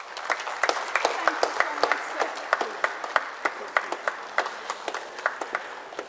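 Steady applause from a seated audience at a talk by the chief executive of Mauritius's La Sentinelle group, many hands clapping densely with sharper individual claps standing out, sustained at an even level throughout.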